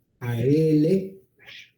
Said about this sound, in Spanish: Ese es mi gato, el que oyen por ahí.